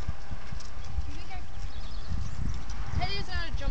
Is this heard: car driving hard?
no